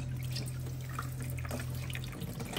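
Water runs steadily from a tap into a sink while ingredients for Sarawak laksa are washed, a continuous close splashing stream with a low hum underneath and no talking.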